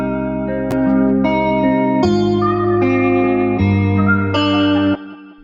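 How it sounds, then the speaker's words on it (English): Electric guitar run through a CLA Guitar plugin with delay, pitch, reverb and compression, playing a sequence of sustained, chorused chords and notes with echoing tails. It stays loud and steady until it cuts off, and no one speaks. "CLA guitar for my electric guitar. You can play with the delay, the pitch, the reverb."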